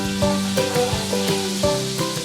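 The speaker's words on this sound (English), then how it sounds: "Listen to that sizzle." Chicken skin sizzles in butter in a cast iron skillet, a steady loud crackle broken by a few sharper spits and pops over a couple of seconds.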